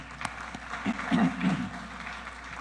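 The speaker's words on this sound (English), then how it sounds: "Let's give our social partners a round of applause as well." Applause for social partners at an economic dialogue hosted by a central bank governor, a faint, brief spatter of clapping from a modest crowd, with a murmuring voice mixed in beneath it.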